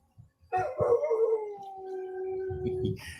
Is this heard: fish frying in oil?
no